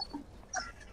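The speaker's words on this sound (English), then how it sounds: "Oh man, that is an excited pupper." An excited dog in a modded building video game gives a brief whimper, two or three quick high yips within a second, soft against a faint background.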